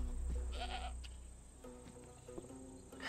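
A goat in the video game Assassin's Creed Odyssey bleats a couple of times, soft and fairly near, over a quiet ambience of chirping insects and faint music tones.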